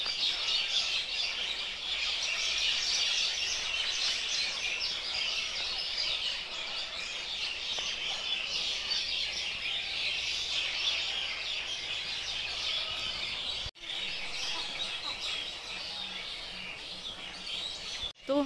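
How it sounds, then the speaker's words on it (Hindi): Soft, steady chirping of many birds at dusk in a village, heard at a distance, a continuous high twittering wash with faint low background noise. "तो हमारे घर में ये शाम ऐसी होती है यहाँ पे चिड़ियों की चहचहाट के साथ।"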